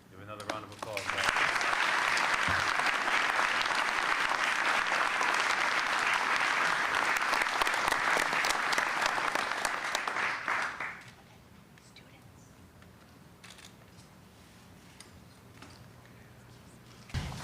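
Sustained applause from a press conference audience, loud and dense for about ten seconds before cutting off abruptly, leaving a quiet room with faint murmurs; held for Celtics player Jaylen Brown after he signed the largest contract.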